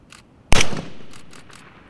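Single sharp, loud sniper rifle shot at an armed forces skill-at-arms shooting match, followed by a rolling echo fading over a second or so, with faint distant shots before and after.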